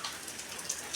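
Steady rain falls on a rainy day in Malappuram, a dense, close hiss of drops pattering on surfaces without pause and with no voices.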